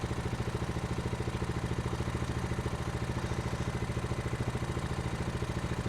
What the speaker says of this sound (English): And then the peace is disturbed by an idiot with a lawnmower engine.